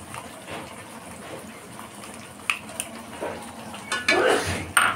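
A spice paste of ground mustard, cumin, garlic and dry chili is mixed into a pan for a brinjal fish curry, with soft sizzling, scraping of a spoon against the pan and a few louder clinks toward the end.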